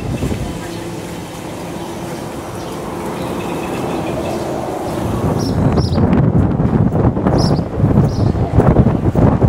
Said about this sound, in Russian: что-то ветер поднялся